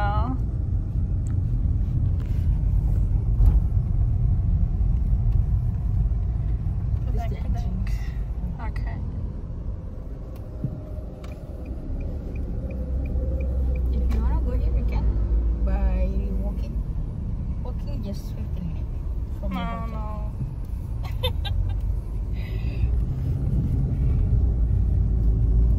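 A car drives along a road in Bali near Padang Padang toward a villa, giving a steady low cabin rumble that dips briefly midway, with faint voices in the background.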